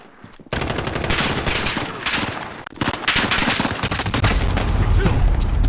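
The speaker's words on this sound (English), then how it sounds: "One shot." Rapid automatic gunfire in Call of Duty Modern Warfare, dense loud bursts rattling almost continuously with a couple of short breaks, close and harsh throughout.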